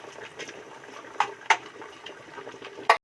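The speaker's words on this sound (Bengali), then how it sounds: "এবার এতে জল দিয়ে দেব" Water poured into a simmering prawn and pumpkin curry in a pan, heard as soft splashing and bubbling with a few sharp splash bursts, close by and with no talk.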